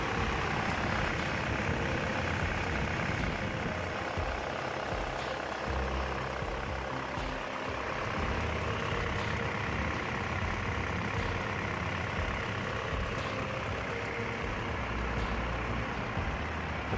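A 3.2-liter diesel engine in a third-generation 2003-2006 Mitsubishi Pajero idles with a steady, low, continuous rumble, close and alone throughout.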